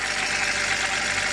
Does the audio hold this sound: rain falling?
no